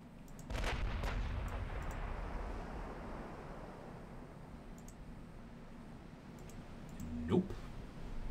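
5-inch naval guns firing in the Ultimate Admiral Dreadnoughts warship battle game, a booming shot followed by a long rumbling decay, and another sharper report near the end, fairly quiet overall.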